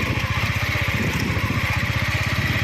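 A service motorcycle engine runs steadily and loudly close by, with a fast, even putter that stays constant throughout, and no talk.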